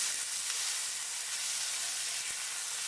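Green onion, white onion and Scotch bonnet pepper sizzle in oil in a pan, a steady bright hiss with no breaks and no voices, heard close up and fairly quiet.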